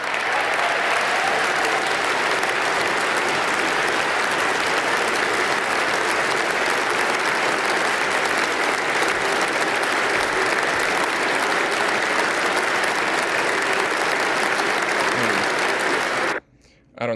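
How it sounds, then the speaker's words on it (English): Sustained applause from a large crowd, dense and steady clapping that fills the whole stretch at close range before cutting off abruptly near the end. "I don't see any reason to listen to more clapping"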